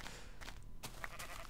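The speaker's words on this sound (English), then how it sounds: "so many sheep" Sheep in the Minecraft video game bleat in a few short, separate calls over a steady low background, fairly faint and with no talking.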